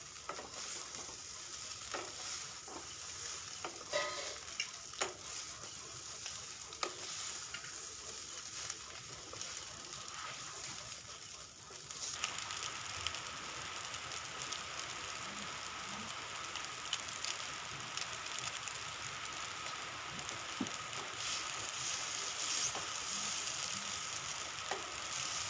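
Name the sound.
stirring pasta with spices in a pan on medium flame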